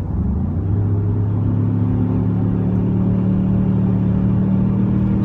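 Steady engine rumble and road noise from a 2016 Ford Explorer Sport with a 3.5-liter twin-turbo EcoBoost V6 on a test drive, heard from inside the cabin as a loud, continuous drone with no talking.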